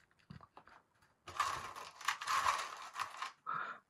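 Small screws being driven into a Voron Stealthburner part on an Elegoo Neptune 3 printer, faint ratcheting and grinding clicks in short bursts, close up and quiet.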